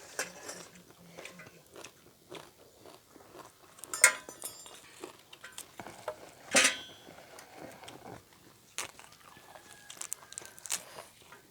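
Crunchy vegetables being eaten up close, with scattered crisp bites and chewing crunches, a few sharper snaps standing out among quieter mouth noises, and no talk.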